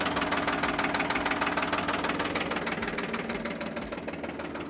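Farmtrac tractor diesel engine running steadily at idle nearby, a continuous loud knocking chug with even rhythm that fades slightly toward the end.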